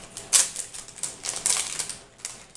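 Plastic packaging of a cuticle cutter being opened, several sharp crinkling and snapping bursts close by with quieter rustling between them and no voices.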